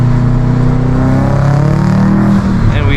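A 2007 Subaru WRX STI pulls hard in second gear onto a highway, its engine drone rising steadily and loud from inside the car, easing off briefly near the end.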